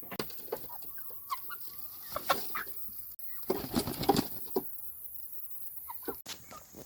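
Chickens cluck and make short calls nearby while being fed chopped watermelon, with scattered soft pecks and rustles and occasional louder squawks in a quiet yard.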